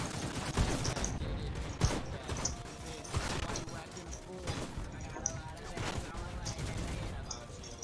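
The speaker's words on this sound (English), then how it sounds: "Alright, now I can start shooting." Video game gunfire in a shooter match defending a base: rapid bursts and scattered shots keep coming at a moderate level under a low, busy background of game sound.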